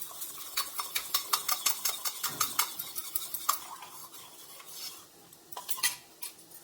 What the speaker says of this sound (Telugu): వాటర్ వేసి ఇలా కలిపి ఉంచుకోండి.